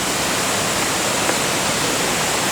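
A creek flowing in a winter hunting area, a dense, unbroken rushing hiss of water that stays steady and loud throughout, close by, with no voices or other sounds.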